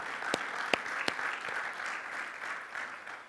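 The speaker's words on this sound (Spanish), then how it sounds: "Denle un fuerte aplauso al Señor." A church congregation gives loud applause, a thick wash of clapping with a few sharp, close individual claps standing out early on.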